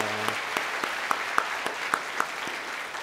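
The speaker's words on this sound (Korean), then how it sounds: "박수로 서로 축복하는 시간 갖겠습니다" A church congregation applauds during a New Year's Eve watchnight service, giving a steady wash of hand claps with a few sharper individual claps standing out, mid-distance and continuous for the whole stretch, with no talking.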